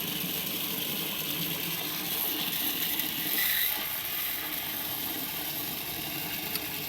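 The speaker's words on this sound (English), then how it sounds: "I'm going to test this little pump to see if it works." A small boat bilge pump runs and pushes water out as a steady, close wash of gushing and mechanical whirring that holds level throughout, with a faint rattling texture and no speech.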